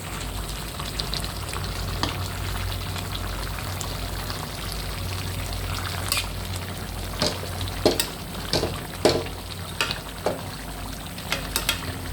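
A spoon stirs garam masala into a frying vetki (barramundi) fish bhuna in a pan, with a constant sizzle and intermittent scraping clicks that grow more frequent toward the end.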